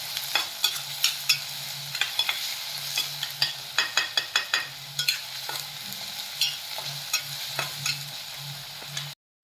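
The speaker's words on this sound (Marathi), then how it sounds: "तरी ते छान असा सोनेरी रंग येईपर्यंत कांदा परतलेला आहे।" Finely chopped onion sautéing in a pan for a pea curry, a constant sizzle broken by a steady run of sharp spoon scrapes and taps against the pan, close up and without speech.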